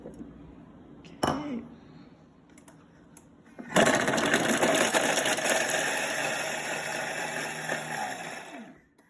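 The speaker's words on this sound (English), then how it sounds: "put the carrot into the mixing bowl and chop for 3 seconds on speed 7" After a few light clinks, a food processor chops carrot in its mixing bowl on speed 7. It gives a loud, close, rattling whir that lasts about five seconds and then cuts off.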